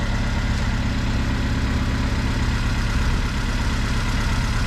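A rebuilt Honda SiR car engine idles steadily and close by, a continuous low rumble with an even, throbbing pulse throughout and no voices.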